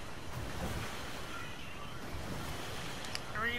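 Steady, muffled wash of water surrounding a player swimming in Fortnite, a low continuous rush with faint wind-like noise and a brief chirp near the end, without talk.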